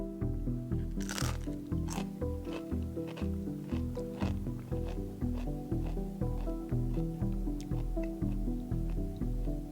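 Repeated crunching bites into crisp homemade carnivore cheese crackers, cheesy and salty, in a steady close rhythm over a continuous background.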